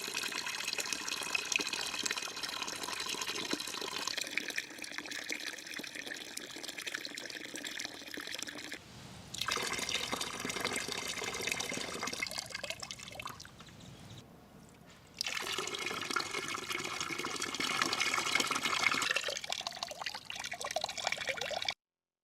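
Fresh well water pouring into a crayfish tank, a steady splashing gush that pauses briefly twice before resuming at full strength, close and continuous with no voices.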